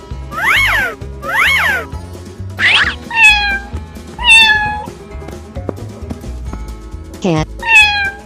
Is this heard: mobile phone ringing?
no